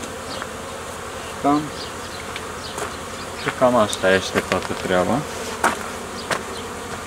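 Honeybees drone in a dense, steady hum around a hive during spring work on a moved box, close and continuous, while someone speaks briefly in between a few knocks.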